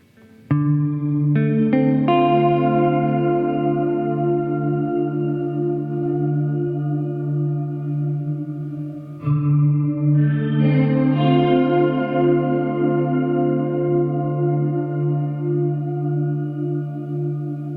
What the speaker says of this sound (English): if you pull this all the way up, what you get is pure reverb